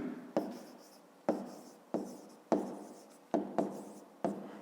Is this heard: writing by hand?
yes